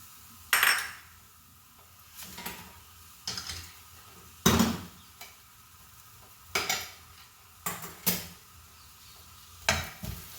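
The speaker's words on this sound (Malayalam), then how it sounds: "നാളികേരും സവാള ഇഞ്ചി ഉള്ളി പച്ചമുളക് വറവായി കേട്ടോ" Coconut, onion, ginger, shallots and green chili frying in a pan, with several separate bursts of sizzling and stirring scrapes spaced across the clip, each rising and fading, over quiet pauses between.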